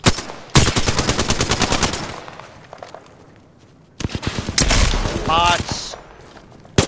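Rapid automatic gunfire from the battle royale shooter Apex Legends rattles in two close, loud bursts, with a brief spoken word in between.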